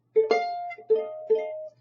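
A ukulele chord is strummed three times, each strum ringing briefly before the next, soft and close with no voices.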